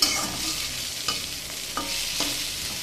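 Brinjal and potato pieces fry in a pan with a continuous hiss of oil, broken by a few soft scraping strokes as they are stirred, close by and with no talk.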